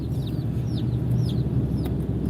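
Several chickens cluck steadily nearby on a farm where they roam free eating ticks and bugs, with brief higher chirps over a low continuous background rumble and no talking.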